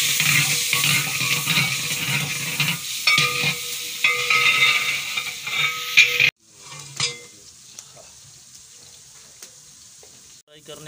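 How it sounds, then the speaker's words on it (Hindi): Onions frying in ghee in a pot and being stirred, a loud dense sizzle with scraping for several seconds, then a sudden drop to quieter crackling and faint clinks. "सबसे पहले इसमें घी डालकर इसमें प्याज को डाला गया और इसको फ्राई करेंगे"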